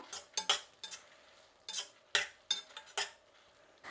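A spoon scrapes and taps around a pan while tomato with tamarind fries, a series of short distinct clinks and scrapes in uneven rhythm over a faint sizzle, close and quiet, with no voices.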